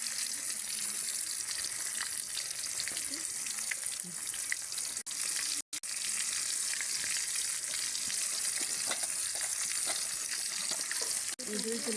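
Big pieces of hilsa fish fry in hot oil, giving a dense, continuous sizzle and crackle that stays steady throughout, close and fairly quiet.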